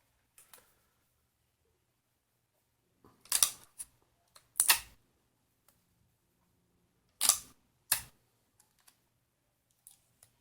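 Strips of tape are pulled and pressed down to hold lining fabric on an embroidery hoop, heard as a few sharp separate rips and crackles with quiet gaps between them and no talking.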